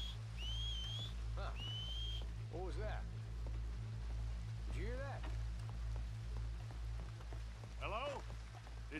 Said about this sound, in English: Someone whistle out here?